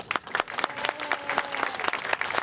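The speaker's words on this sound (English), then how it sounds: "I want you to clap at your favorite Beatle movie." A crowd gathered for a Beatles anniversary event in Benton, Illinois claps for the film A Hard Day's Night, dense steady applause with sharp individual claps standing out, close and lively throughout.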